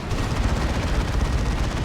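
Gunfire in the strategy game Warhammer 40,000: Dawn of War 2 during a 3v3 Chaos Invasion match, a dense continuous rattle of shots and booms with no pauses, steady and fairly loud throughout.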